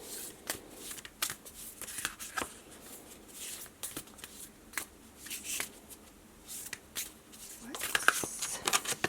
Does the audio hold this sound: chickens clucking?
no